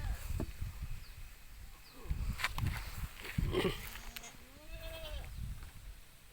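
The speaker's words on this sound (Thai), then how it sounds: "แม่แกะ" A mother sheep bleats several times at close range amid shuffling hooves and rustling in a pen, while people talk quietly nearby.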